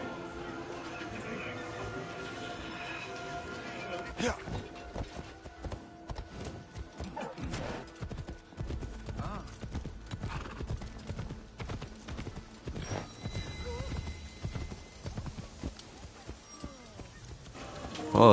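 In Assassin's Creed Shadows, a horse's hooves pound in a continuous galloping clip-clop across the ground, steady and moderately loud, with game ambience and occasional voices underneath.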